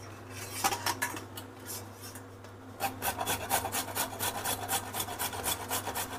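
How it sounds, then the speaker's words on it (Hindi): Carrots are grated by hand for carrot halwa, with a steady run of close, rhythmic rasping strokes that pause briefly midway and then resume faster and denser. "ये हैं गाजर, इनको हम जा रहे हैं कसने।"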